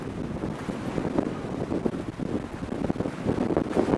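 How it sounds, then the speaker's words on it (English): Strong, gusty coastal wind on a clifftop path roars steadily against the microphone, with a low buffeting rumble and no voices. "it's just as windy, possibly even more so."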